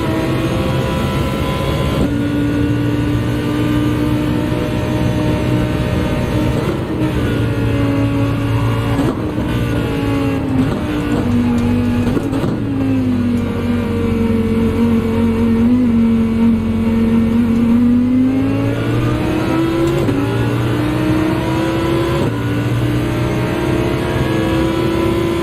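Toyota Supra race car engine in Gran Turismo on the Nordschleife, a loud continuous drone that rises and falls in pitch through gear changes and revs, steady for the whole stretch.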